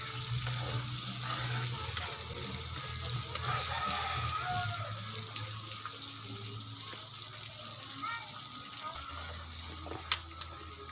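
Pork fat sautéing in a pan while cooking alamang guisado, a steady close sizzle with stirring scrapes and a low hum underneath, and a sharp clink near the end.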